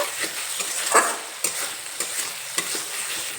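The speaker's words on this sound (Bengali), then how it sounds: "লবণ দিয়ে আবারও একটু নেড়ে চেড়ে নেব" A spatula stirs fish curry with salt in a pan: soft frying hiss under a quick run of scraping clicks and taps, close by, with nobody speaking.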